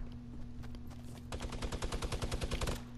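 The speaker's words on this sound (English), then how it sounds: "Oh, I hear gunshots" Gunfire in the video game Fortnite: a rapid, evenly spaced burst of automatic shots starts partway through and keeps going over a constant low hum, with quieter muffled thuds before it.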